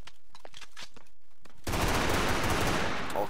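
Automatic gunfire from a weapon in the blocky shooter game Brick Force, a dense loud burst that kicks in abruptly after a quieter stretch of faint footsteps and clicks, then rattles continuously to the end.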